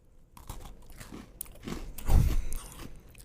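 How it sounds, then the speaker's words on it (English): A cookie crunched right against the microphone: several close, loud bites and chews, with the biggest crunch about two-thirds of the way through, and no talking. "There's a mic crunch."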